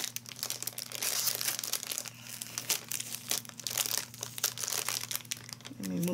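A clear plastic gift bag, closed with washi tape, is opened with loud, close crinkling and rustling that runs almost without a break, and a voice comes in briefly near the end.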